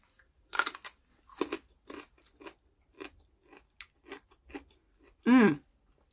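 A bite into a pale-ended greenhouse cucumber followed by a few short, crisp chewing crunches close to the mic, spaced out over several seconds with a louder burst near the end.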